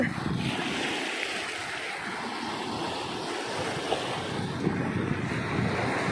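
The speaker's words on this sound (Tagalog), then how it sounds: "Kahit maalon siya, hindi nakakatakot." Waves wash onto a white sand beach in Quezon province, a soft continuous surf roar mixed with wind buffeting the microphone, fairly distant and faint.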